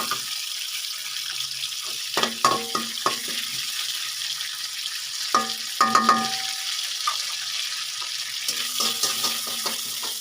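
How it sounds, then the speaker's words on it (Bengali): Bay leaves, two pieces of cinnamon and four or five cardamom pods fry lightly in oil in a karai, a soft continuous sizzle broken by a few clattering stirs and knocks of a utensil. "তেজপাতা দুই টুকরা দারচিনি আর চার পাঁচটা এলাচ তো এইগুলোকে আমি হালকা ভেজে নেব"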